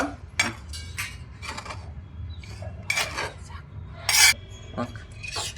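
Pounded niger seed chutney powder being mixed with oil in a bowl, giving scraping, rasping clinks of a spoon or utensil in short bursts, fairly close, with faint voices in the background.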